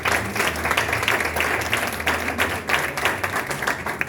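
Church congregation claps continuously, a dense, fairly loud burst of many hands applauding with a faint murmur of voices beneath and no break throughout.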